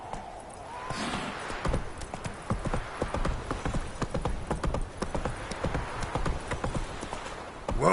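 Roach the horse gallops in The Witcher game, steady rapid hoofbeats pounding close and clear in a continuous rhythm, with a brief whinny-like sound near the start.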